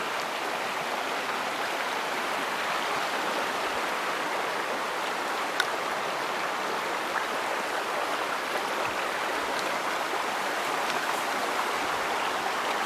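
The Hope River at Garden Town Road in Jamaica flows with a steady, close, broadband rushing of water, unbroken and even throughout with no voices over it.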